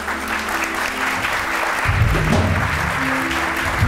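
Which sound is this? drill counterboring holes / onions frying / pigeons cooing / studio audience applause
studio audience applause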